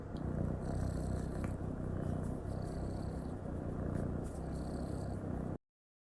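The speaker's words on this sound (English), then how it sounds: "I hold a little tiny kitty that's purring." Small kitten purring up close, a soft continuous rumble with a steady rhythmic pulse of breaths, quiet and alone, cutting off abruptly near the end.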